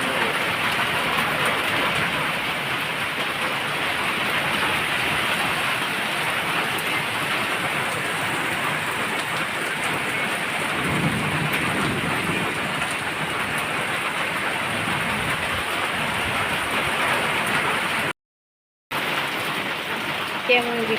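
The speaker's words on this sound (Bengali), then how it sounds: "কেমন বৃষ্টি পড়ছে দেখো" Heavy rain pours down during an afternoon thunderstorm, a loud, steady hiss of rain on surfaces that fills the whole stretch without letting up, apart from a brief gap near the end; no thunder stands out.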